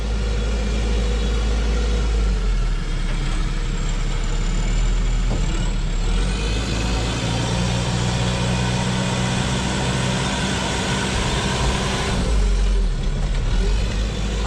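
A loud excavator engine runs steadily while the bucket digs, a constant low diesel drone with the pitch rising and falling as the machine works. There are brief scraping surges near the middle and end, and no talk.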